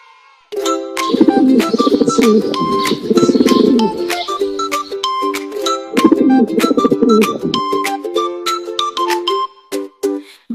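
Pigeon cooing set within a children's rhyme track, soft bird calls mixed with bright chiming bell-like music notes that ring out in repeated phrases throughout.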